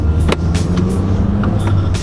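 Hybrid car accelerating, heard from inside as a loud, steady low engine and road roar with brief higher whooshes, filling the short clip without voices.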